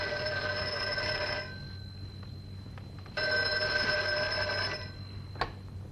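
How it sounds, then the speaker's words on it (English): An old-fashioned telephone bell rings in two long bursts with a pause between, fairly close in a quiet room, with no talk over it. "Answer the phone."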